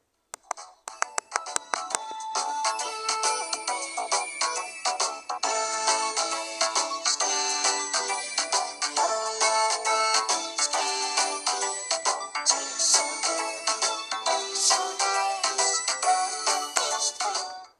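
Upbeat electronic video game tune with bright, chiming melodic notes playing continuously, dense and lively with no voices.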